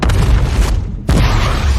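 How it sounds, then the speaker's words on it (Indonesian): A bomb detonates in the Pacific Rim film as a loud, close booming blast. It cuts off briefly, then returns as a sustained roaring rumble. "Ledakan bom begitu dahsyat"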